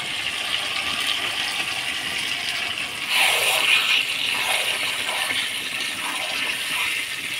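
Water is poured into a pot of goat meat and potatoes cooking in spices, a steady broadband gush that swells louder after a few seconds and then runs on evenly, with no talking.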